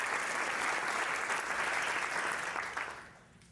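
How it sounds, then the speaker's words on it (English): Applause from an audience at a downtown Oklahoma City panel, full and even clapping that thins out and fades over the last second. "I just want to give her a round of applause"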